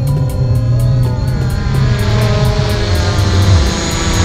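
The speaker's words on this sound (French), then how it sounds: "Voilà, le drone vraiment glisse gentiment." A DJI Mavic Pro drone flying and gliding nearby, its propellers producing a loud, steady whine and buzz that holds constant throughout with slight shifts in pitch.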